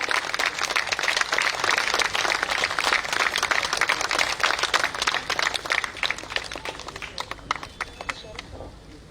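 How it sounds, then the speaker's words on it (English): Audience applause greets a retired Indian Army colonel being introduced at a political joining event in Goa, a dense, steady wash of many hands clapping that holds for several seconds before gradually thinning toward the end. "Big applause, please."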